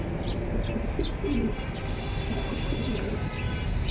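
Military pankhi pigeons coo in a kept collection, with soft, repeated low coos and faint chirps in short bursts over steady background noise, without talk.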